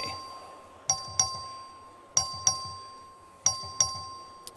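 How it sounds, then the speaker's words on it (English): In a legislative chamber, the clerk rings a bell to call a record vote. It gives three evenly spaced pairs of bright, ringing chimes that decay slowly over a faint steady hum. "The clerk will ring the bell."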